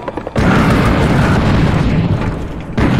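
Rocket launcher explosion in the VR shooter Serious Sam VR: The First Encounter, a sudden loud, close boom that hits after a brief quiet and rumbles on for nearly three seconds, with a second burst starting at the end.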